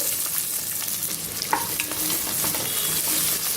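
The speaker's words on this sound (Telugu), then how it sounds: "ఉల్లిపాయ ముక్కల్ని ఒక 2 నిమిషాలు ఫ్రై చేసుకోవాలండి" Chopped onions and green chillies sizzle steadily in hot oil in a pan, a continuous close frying hiss with a few light stirring scrapes and no talk.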